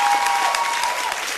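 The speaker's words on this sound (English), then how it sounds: "Keep clapping for her." An audience claps steadily, a dense, even burst of applause from a crowd that holds at a strong level throughout, with a faint voice underneath.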